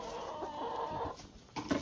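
Chickens clucking in a fenced coop after a big tree branch fell onto the fence and roof during nonstop rain; steady agitated clucking with a louder squawk near the end, close by.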